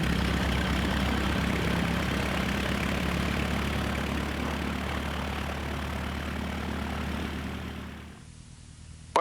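Light aircraft engine fitted with a new Catto propeller running at a steady idle, a loud, even droning rumble that holds for several seconds before cutting off.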